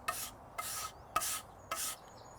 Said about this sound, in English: You can either just rub it off, a stiff brush is the best method